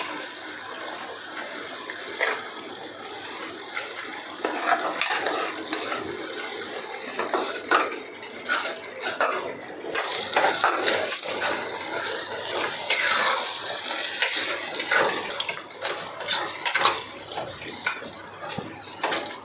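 Ground gongura leaves are stirred into boti curry in a pan, giving wet squelching and scraping with a spoon clinking against the pan, continuous and close throughout.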